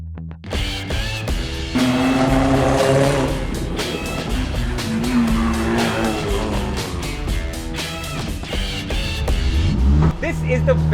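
A Volkswagen Polo 1.8 TSI engine revs loudly and continuously throughout, rising and falling in pitch as the car is driven hard, with a voice partly audible over the engine noise.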